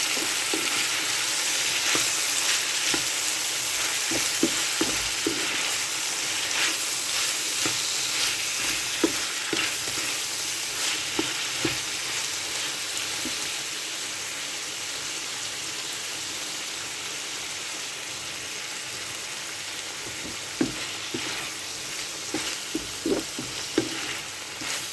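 Tempering spices fry in hot oil for a fish curry: a steady, bright sizzle with scattered crackles and pops and occasional stirring clicks, close and continuous.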